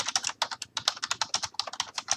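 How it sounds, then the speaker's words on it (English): Fast, aggressive typing on a computer keyboard produces a dense, rapid rattle of crisp keystrokes in uneven clusters, close and alone. "Vicious typing"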